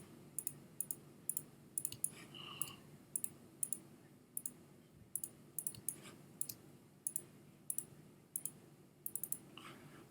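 Mouse clicks while tracing a selection in Photoshop, a steady series of crisp, close, fairly quiet clicks at an even rhythm over a faint background hum.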